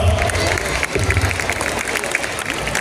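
Audience clapping and cheering at a school annual day celebration, loud continuous applause from a large crowd with some voices mixed in.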